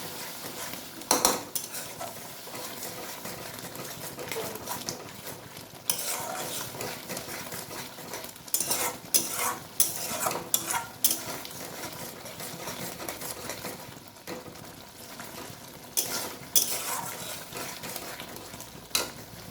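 A utensil scrapes and clinks intermittently against a pan while tomato paste with turmeric and chili powder sautés, irregular close stirring strokes over a faint background sizzle.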